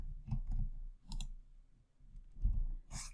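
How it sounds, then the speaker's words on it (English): Computer keyboard keys pressed in quick clusters, sharp close clicks and taps in several bursts separated by brief pauses, heard alone without speech. "my keyboard is working. I pressed the wrong key for a second right here."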